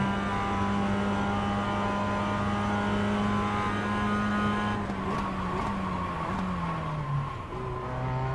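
A race car runs a lap in the iRacing simulator, its engine a steady, loud harmonic drone that holds level before the pitch sags and drops as the car slows toward the end.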